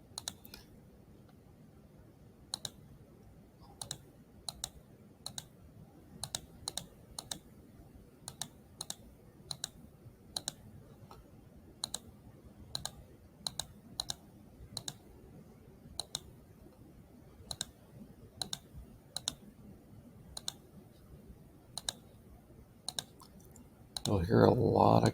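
Rapid, sharp mouse clicks repeat irregularly and closely for a long stretch over quiet room tone.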